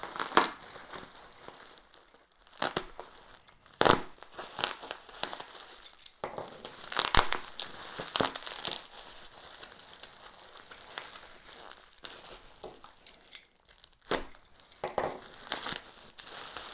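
Plastic bags crinkle and crush in bursts while being opened, with sharp louder crackles scattered among a steady rustle, close and alone.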